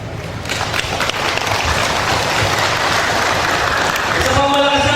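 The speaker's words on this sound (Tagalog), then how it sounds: "Isa pang malakas na palakpak para kay Pastor Roy." Audience at a religious debate between a Muslim and an Adventist speaker claps loudly and continuously, a dense roar of applause swelling toward the end, with voices mixed in.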